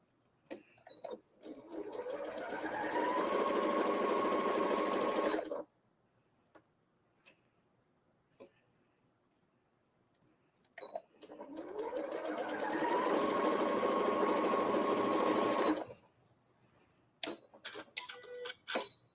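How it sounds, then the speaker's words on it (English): A sewing machine stitches pieces for a Ribbon Star quilt block in two steady, rapid bursts of about five seconds each, separated by a quiet pause with light handling clicks. "Just going to quickly sew these."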